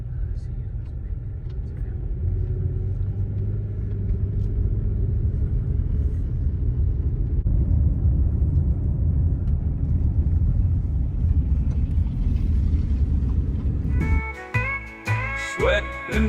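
A car drives along a country road through Amish country, with a steady interior engine and tyre rumble for most of the stretch before music cuts in near the end.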